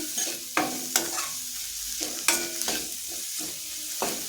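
Chopped vegetables and salt stirred in a hot pan for ragi soup, with a spatula scraping and clattering in several sharp, irregular strokes over a soft background sizzle; no talking.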